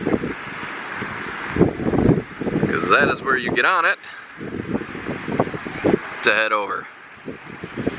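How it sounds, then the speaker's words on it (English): Gusty wind buffets the microphone in low rumbling bursts while a person talks over it by the Mackinac Bridge on Lake Michigan, with a few higher sounds rising briefly between gusts. "Sorry about this wind. It's pretty windy up here."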